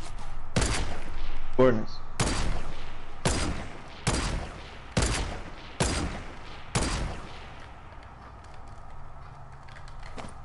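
Loud gunshot bursts in Fortnite Battle Royale gameplay, about six heavy blasts spaced roughly a second apart, with a quick rattling burst early on and players talking over the action.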